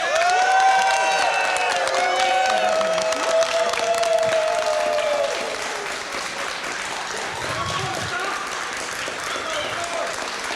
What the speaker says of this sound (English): Oh, what an applause here from all of the Finnish community and everyone who stuck around